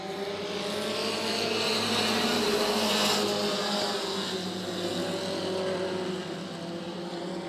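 A race car accelerating hard at Senoia Raceway, its engine note rising and swelling in a sustained roar before easing slightly, heard from trackside at moderate distance.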